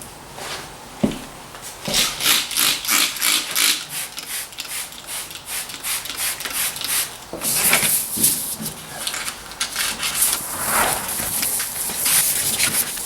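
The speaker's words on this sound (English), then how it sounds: "now I'm going to take 800 grit sandpaper and wet sand it" Wet sanding of a truck body with 800 grit sandpaper makes close, rhythmic rasping strokes, a steady back-and-forth scrubbing repeated many times with brief pauses between passes.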